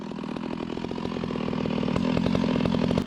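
A chainsaw running steadily as it cuts into a red oak tree at the edge of a pasture, a loud, close, buzzing engine whine that rises slightly in load before cutting off abruptly.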